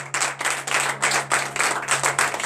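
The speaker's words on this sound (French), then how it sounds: "Donc je vous demande d'applaudir très fort." A congregation applauds loudly during a morning prayer gathering, with rhythmic, pulsing clapping in roughly regular waves and a steady low hum beneath.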